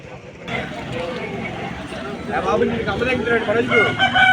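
A rooster crows amid other fowl at a rain-soaked rooster market in Vijayawada, where the birds are wet from heavy rain. The crowing rises clearly in the second half, over steady crowd noise and people talking nearby.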